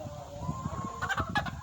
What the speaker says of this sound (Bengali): এগুলো আমাদের টাইগার মুরগির প্যারেন্টস।